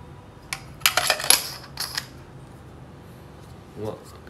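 Batteries are fitted into a DB 350Plus wireless microphone, producing a cluster of close, sharp plastic and metal clicks and taps, then a quieter fumbling sound near the end.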